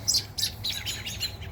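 Robins call agitatedly at a cat outdoors, a flurry of sharp, repeated chirps and squeaks over soft background noise, fairly faint.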